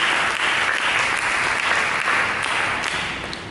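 Church congregation applauding Jesus during a service, a dense, steady wash of clapping that fills the whole stretch and tapers slightly at the end.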